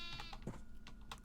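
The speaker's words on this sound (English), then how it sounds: "that sheep is protesting for sure" A Minecraft sheep bleats in quick game-sound bursts, faint and brief, alongside soft clicking and keyboard typing.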